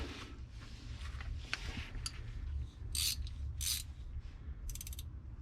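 A wrench works a bolt on car lower control arms, sounding a few short bursts of metallic ratcheting clicks over low background rumble, close and moderately loud.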